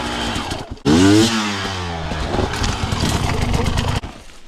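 A dirt bike engine revs hard with a rising, buzzing whine, then holds a loud, raspy, uneven roar for several seconds before cutting off abruptly.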